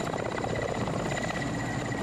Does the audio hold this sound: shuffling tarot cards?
no